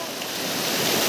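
Water waves washing and surging in a continuous broadband wash, steady and fairly loud throughout with no pauses, recorded outdoors on a grassland outing where local boys play in the water.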